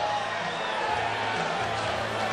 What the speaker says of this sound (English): There goes the crowd.